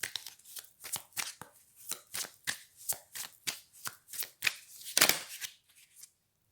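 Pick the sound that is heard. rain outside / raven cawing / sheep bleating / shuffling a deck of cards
shuffling a deck of cards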